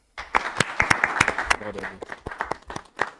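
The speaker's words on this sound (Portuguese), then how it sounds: "Uma salva de palmas, por favor." A small church audience claps to welcome the pastor, a sparse patter of individual claps rising and thinning, with a voice talking over it briefly.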